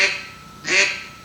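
A handheld duck call imitates a mallard hen's feeding quack, two short nasal quacks spaced apart, close and fairly loud with quiet between them.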